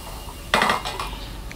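Rice stir-fried with sprinkled spring onions for Chinese-sausage baked rice, a metal utensil clattering against the pan in a short burst of scraping and clinks, then quieter stirring.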